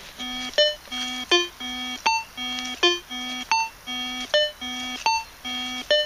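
A Signum 7272M metal detector sweeps over a coin buried 9 inches deep, giving repeated beeping tone signals in a regular rhythm of about eight bursts, each rising to a sharp higher beep, clear and close.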